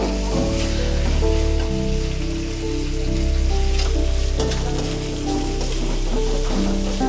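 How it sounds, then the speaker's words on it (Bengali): Ginger, garlic and onion fry in oil for a pangas fish dish, giving a steady, moderately loud sizzle under a continuous musical background. "আদা রসুন দিয়ে ভালোভাবে একটু তেলের উপরে ভেজে নেবেন।"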